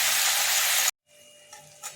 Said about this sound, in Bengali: এখন আমি কড়ার মধ্যে পেঁয়াজ কুচি দিয়ে দিয়েছি, একটা লঙ্কা দিয়ে দিয়েছি। এরপর এগুলোকে ভাজতে থাকি।